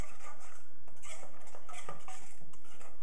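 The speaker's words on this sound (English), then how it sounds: "And then we'll stir it all together." A spoon stirring cocoa powder into a thick orange sauce in a bowl, giving repeated close scraping clinks of metal against the dish in an uneven rhythm, with no one speaking.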